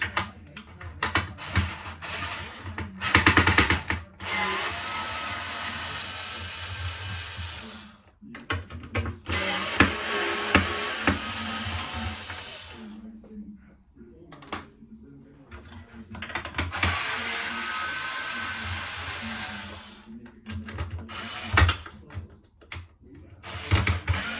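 A power tool, likely a cordless driver, removing clamps and the back end cap from a Saluspa spa heater with an E02 error and tripping fuse, whirring in repeated close bursts separated by brief pauses and handling clatter.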